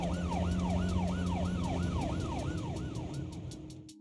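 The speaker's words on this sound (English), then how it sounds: "a PubSec car hurtles down the street, siren blaring" A police car siren blaring in the video game Zenless Zone Zero, a loud wailing tone sweeping up and down in a regular rhythm over engine noise, alone with no talk, fading at the end.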